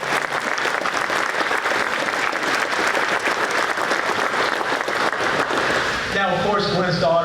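An audience at a frocking ceremony gives a warm round of applause for Miss Kathy, dense clapping filling the room for several seconds before fading as music or voices come in near the end.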